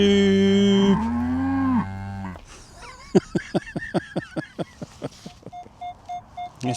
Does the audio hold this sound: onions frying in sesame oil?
no